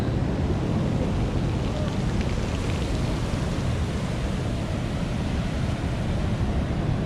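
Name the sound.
ocean waves and wind at Portixol, Mallorca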